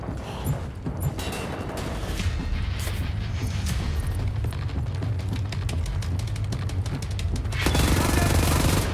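Heavy gunfire in the shooter Wolfenstein: The New Order, fought in catacombs: a dense, continuous stream of rapid shots and booms over a rumbling low end, swelling louder near the end.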